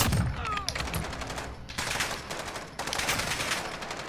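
Rapid bursts of gunfire from a Call of Duty match crackle almost continuously, loud and dense, with brief dips between volleys.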